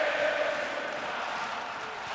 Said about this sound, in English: Crowd are doing their best to lift their team.